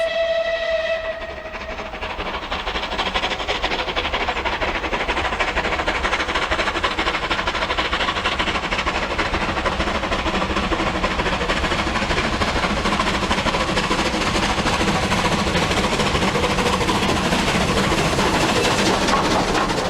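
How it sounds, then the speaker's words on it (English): A rebuilt Bulleid West Country Pacific British steam passenger locomotive roaring past, loud and continuous, with a brief whistle tone at the very start. "Among the notable exceptions were Bullitt's two types of Pacific passenger locomotive."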